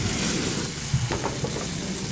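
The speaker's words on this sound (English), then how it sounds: "I'm going to put a little bit more oil in there just so that it can pan fry." A trout fillet pan-frying in oil produces a loud, dense, unbroken sizzle close by, with a faint scrape or two partway through.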